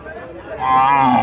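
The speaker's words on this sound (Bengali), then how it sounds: "এখানে একটা গাভী দেখা যাচ্ছে" A Haryana-breed cow at a cattle market gives a single close, loud moo that swells and rises toward its end.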